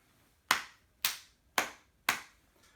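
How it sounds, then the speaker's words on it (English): Children at a primary school celebration assembly do a crocodile clap: four sharp, evenly spaced claps, close and loud, with silence between them. "It's a crocodile clap."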